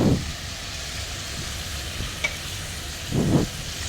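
Local chicken pieces frying in spiced masala for a bhuna: a steady close sizzle, broken by two bursts of scraping spatula stirring, one at the start and one near the end.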